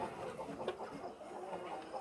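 Chickens on a poultry farm, kept around covered drinkers, cluck softly and steadily at a middle distance over a constant murmur of flock noise.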